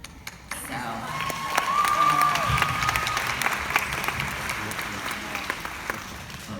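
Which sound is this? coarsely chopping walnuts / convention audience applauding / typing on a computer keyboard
convention audience applauding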